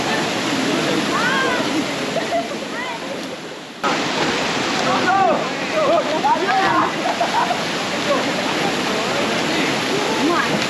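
Roaring waterfall near Guatapé, Colombia, its dense broadband rush steady and close throughout, with voices and chatter layered over the falling water.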